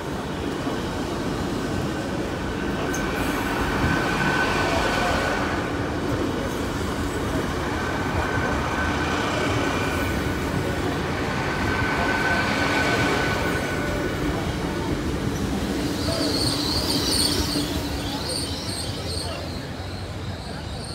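A train rumbles past a level crossing on Lincoln High Street, steady heavy rolling noise with faint wheel squeal toward the end.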